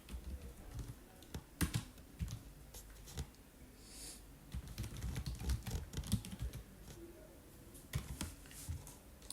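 Fingers typing on a computer keyboard while designing a birthday flyer in Photoshop, a close, irregular patter of quick key clicks in short bursts with brief pauses, fairly quiet and without talk.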